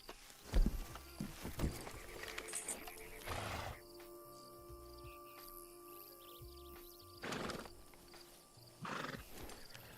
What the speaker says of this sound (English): Never seen this horse before.